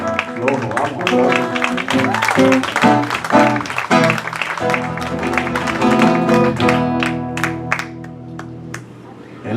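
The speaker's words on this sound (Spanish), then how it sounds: "Un aplauso." A church congregation claps steadily and fairly close, with music and voices running underneath the applause throughout.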